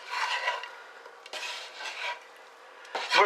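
Cracker crumb dressing for roast chicken is stirred in a bowl with a utensil, producing soft scraping and rustling strokes in a few short bursts, close and fairly quiet with no talking.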